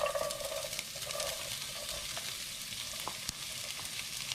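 Chopped onions fry in hot ghee with spices, producing a soft, steady sizzle with occasional faint clicks, heard alone and fairly quiet.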